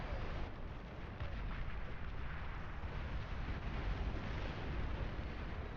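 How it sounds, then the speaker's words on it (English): Artillery fire in the strategy game Beyond All Reason comes as a dense, continuous roar of distant booms and blasts, steady and muffled with no distinct individual shots. "what is that shooting? What was that? Looked like artillery?"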